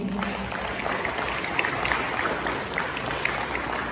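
A school assembly audience applauds its teachers at a year-end award assembly, a steady wash of many hands clapping at a distance, moderately loud and even throughout, with no talk over it.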